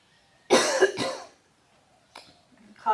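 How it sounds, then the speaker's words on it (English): A person coughs during a gentle yoga flow, a loud double cough followed by fainter coughs and a throat clear in an otherwise quiet room. "Coughing those toxins out."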